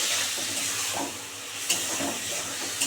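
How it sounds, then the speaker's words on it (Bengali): Spice paste of garlic, onion, ginger and green chili frying in oil in a pan, giving a continuous soft sizzle and hiss with a few light stirring clinks, close and alone. "একদম দারুণ করে কষাতে হবে, যতক্ষণ না তেল ছাড়ছে।"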